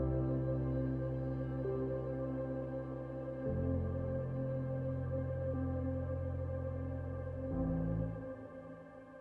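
Piano chords held over a reverb-drenched atmospheric pad, a sustained smooth wash with two chord changes and a fading tail at the end.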